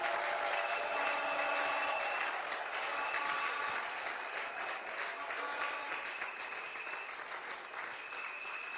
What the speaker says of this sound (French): J'aimerais qu'on acclame la parole de vie.